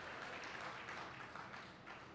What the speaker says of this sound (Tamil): இது கூடுதலா கைத்தட்டல் வரும் எப்பவுமே